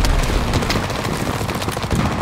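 Dense, continuous battlefield gunfire in Call of Duty WWII, heavy overlapping shots and booms forming a loud, unbroken roar with no pauses.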